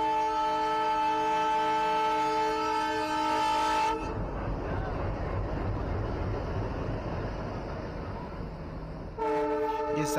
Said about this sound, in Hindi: सामने से खुल रही है दिनहटा से सिलीगुड़ी बामनहाट इंटरसिटी एक्सप्रेस जो कि सिलीगुड़ी से बामनहाट की ओर जा रही है।